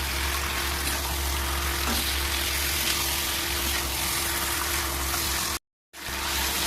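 A mutton curry spice paste fries in oil as it begins releasing its oil, a constant dense hiss and crackle, close and even, broken by one brief dropout near the end.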